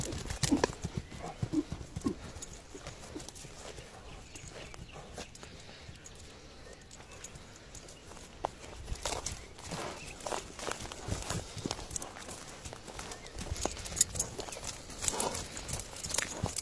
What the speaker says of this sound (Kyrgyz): Атты бастырып да эки жака кайрып да көрсөтүп коелу